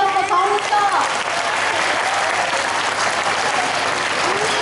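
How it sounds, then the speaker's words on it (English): A retirement function audience breaks into loud, sustained applause, dense clapping filling the room from start to finish, with a brief voice rising over it at the beginning. "A huge round of applause for Thomas sir."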